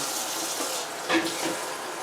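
Tap water runs steadily into a darkroom sink while the temperature is being adjusted during film developing, a continuous close hiss with a brief surge partway through.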